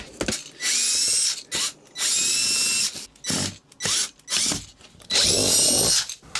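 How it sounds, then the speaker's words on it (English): Jigsaw fitted with a fine-toothed blade cutting through plastic, running in several loud bursts of a few seconds each with short pauses between, close by. "I found that cutting this type of plastic is best done with a fine-toothed blade."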